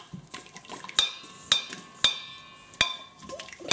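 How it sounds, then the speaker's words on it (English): A stirrer clinking against a container while mixing neem and oregano hair oil, making sharp, close taps at a steady pace of about two per second with no talking. "So I'm just going to stir that in."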